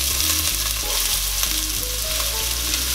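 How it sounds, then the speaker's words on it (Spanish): Onion frying in olive oil in a pan, a steady close sizzle with faint stirring scrapes running without a break and no voices. "Vamos a ir haciendo la cebolla."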